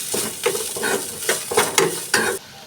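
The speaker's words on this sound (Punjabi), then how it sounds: "ਗਾਜਰ ਨੂੰ ਤੇ ਪਿਆਜ਼ ਨੂੰ ਥੋੜਾ ਟਾਈਮ ਲੱਗਣਾ ਹੈ ਭੁੰਨਣ 'ਚ" Onions and carrots frying in a pan, a close sizzle punctuated by several quick spatula scrapes and stirs in an uneven rhythm, with no voices.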